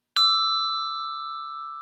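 A single handbell is struck once, with a sharp metallic attack followed by a pure, sustained ring that fades slowly and stays clear, with no voices.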